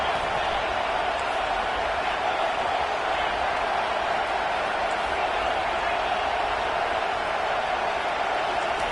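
A home crowd roars steadily at a college football game during a third-down defensive stand, a dense and unbroken wall of cheering that holds its level throughout, with commentary speech mixed in.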